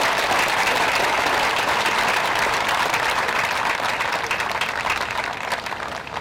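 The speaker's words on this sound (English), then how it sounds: "ladies and gentlemen, a nice round of applause for the Danbury Drum Corps." A large outdoor crowd at a 9/11 memorial service applauds the Danbury Drum Corps. Dense, steady clapping holds at full strength and then eases off slightly toward the end, with no voices over it.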